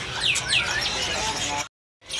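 Java sparrows chirping at a bird shop kiosk, several quick, bright tweets and whistles close by amid cage chatter, cut off briefly near the end before resuming.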